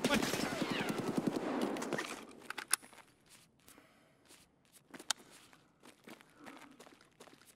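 Gunfire in the video game Escape From Tarkov: a dense burst of shots and movement noise at first, then scattered single sharp shots and shuffling steps, fairly quiet overall.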